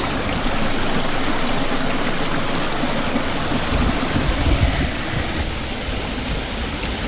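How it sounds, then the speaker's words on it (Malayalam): Small mountain stream on a hiking trail near Taupo, New Zealand, rushing and splashing in a loud, continuous broadband wash without pause. "വെള്ളച്ചാട്ടമല്ല, ഇത് ചെറിയ സ്ട്രീമാണ്"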